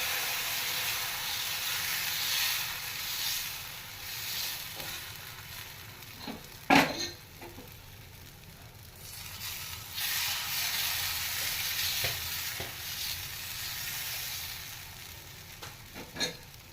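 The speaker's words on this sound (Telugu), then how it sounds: "చేత ఆల్మోస్ట్ వేడైపోయింది ఇంకా దోశ అయితే వేసేద్దాం" Dosa batter made from Balamrutham flour cooking on a hot pan without oil, a soft steady sizzle and hiss with a sharp clatter partway through and a few light knocks near the end.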